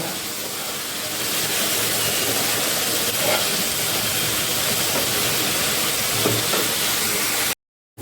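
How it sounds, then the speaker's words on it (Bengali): Masoor dal sautéing with spices in a pan gives a continuous close hiss and sizzle, fairly loud and even, then cuts briefly to silence near the end, no speech. "ভালো করে ডালের সঙ্গে মশলাটা কষিয়ে নেব।"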